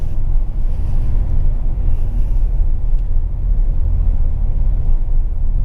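Steady low road rumble fills the cabin of an All New Xenia, top trim, driving over paving through town, a continuous dense drone with no talk.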